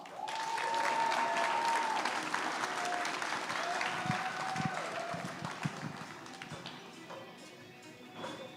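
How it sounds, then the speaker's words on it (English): A round of applause for a team at a leadership institute demo day, steady crowd clapping mixed with cheers and a faint tone over it, gradually thinning out. "Please give a round of applause for Team VIDA."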